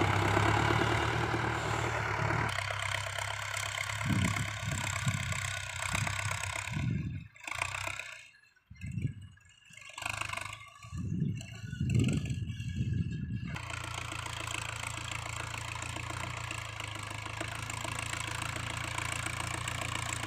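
A Ford New Holland 6610 tractor clearing land for a rice field drones steadily at a distance. In the middle it shifts into a rougher, pulsing, labored stretch, then settles back to an even rumble.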